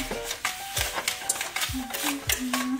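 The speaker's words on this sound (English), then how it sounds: "So, do some mixing here until it's creamy." A spoon scrapes and thumps through thick cookie dough in a bowl, a quick rhythmic series of close stirring strokes, mixing until creamy.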